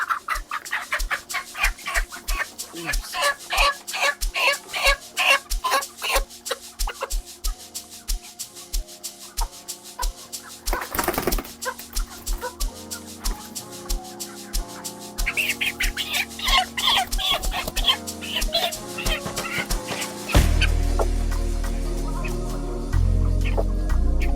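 Broiler chickens cluck in a busy, rhythmic stream of short calls during a heatwave, with a brief louder burst midway and a rumbling noise toward the end.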